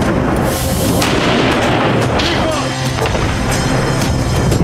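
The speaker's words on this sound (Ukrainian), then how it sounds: "时不时就是轰隆炮声" Loud, continuous rumbling battle noise with heavy booms of artillery fire rolling through dense crackling background, dominating throughout, amid the fighting in Bakhmut, Ukraine.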